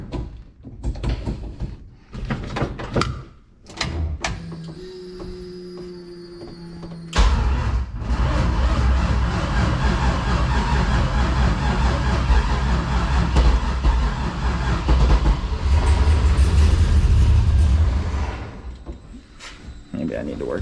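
A car that has stood unused for a long time starts after a few clunks and rattles; the engine catches and runs loudly and steadily for about ten seconds, then fades.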